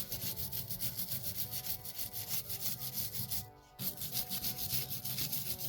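Metal wire brush scrubbing rust off a rain-rusted gun, a rapid rhythmic scratching of steady back-and-forth strokes, close and continuous apart from one brief pause.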